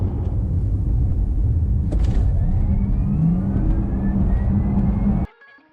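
A used Porsche Taycan Turbo electric car accelerates hard, a steady rising electric whine climbing in pitch over heavy road and wind roar for several seconds before cutting off abruptly.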